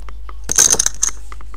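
Four poker chips from a Governor of Poker 3 case thrown at once onto paper on a table, landing in a short cluster of light clicking clinks and bright rattles, followed by a few small, softer ticks as they settle.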